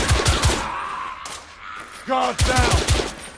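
Gunfire in the video game The Order: 1886, several sharp rapid shots in quick bursts with a short lull between, loud and close, while someone shouts briefly over the shooting.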